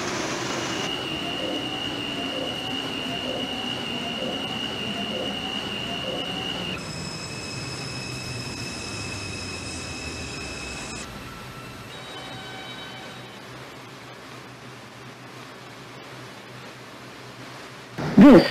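An R142 subway train on the 2 line in Hmmsim 2 runs along the track, a steady rumble with sustained motor whine and wheel squeal tones that shift and fade, ending in a sharp loud burst.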